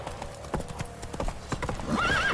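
Roach, Geralt's horse in The Witcher 3: Wild Hunt, gallops with quick clip-clop hoofbeats, close and steady, and a whinny rises near the end over a faint game music bed.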